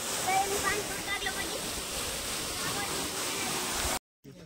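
Water pours and splashes steadily outdoors, a broad rushing wash that holds loud and even for about four seconds before cutting off abruptly, with no talk over it.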